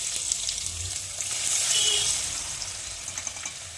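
Crushed garlic cloves and asafoetida sizzle in hot oil, a steady soft hiss with faint crackle, close and moderately loud, no talking.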